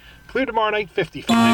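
A loud horn-like alarm clock blares briefly at the end, right after a man's speech.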